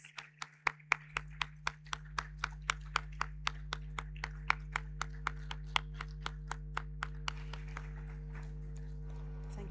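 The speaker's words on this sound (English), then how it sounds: "a resounding round of applause" Audience clapping welcoming the Vice President of Ghana at a diaspora summit: a long run of evenly spaced, distinct claps in a steady rhythm, fairly faint over a low hum.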